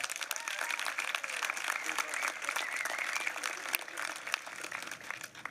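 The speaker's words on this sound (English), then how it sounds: "let's give all of them another round of applause" Audience applause at an awards ceremony for a women's college sailing national championship, a dense, steady wash of many hands clapping at moderate distance for several seconds, with faint voices mixed in.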